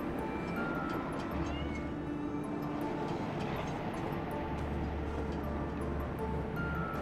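A cat meows in the video game Trine 4: The Nightmare Prince, several soft mews in a mansion scene, faint against a steady, busy bed of game music and ambience.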